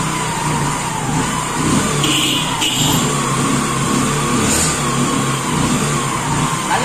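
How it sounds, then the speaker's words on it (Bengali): Second-hand motorcycle at a used bike showroom, its engine running loud and close with a steady mid-pitched drone and slight revving swells, continuous throughout with no talking. "আমি গাড়ি স্টার্ট দিয়ে দেখিয়ে দিচ্ছি আমার ভিউয়ারদের।"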